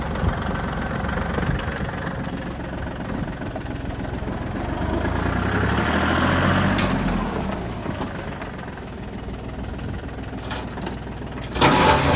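A warmed-up Japanese mini tractor engine idles steadily at close range, a low continuous chug that swells slightly midway, ending with a short louder knock.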